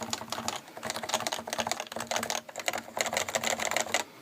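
Steady typing on a quiet Topre keyboard similar to a Realforce, a soft dense patter of muted keystrokes close up with occasional brief lulls.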